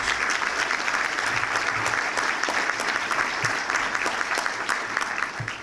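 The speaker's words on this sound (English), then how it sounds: "Let's have a round of applause for all these new members" Steady applause from a room full of people at a chamber of commerce breakfast, many hands clapping at an even, full level for new members, lasting the whole stretch with a slight tapering at the end.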